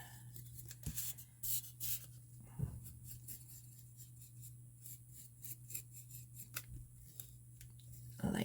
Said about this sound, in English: Just draw some stones in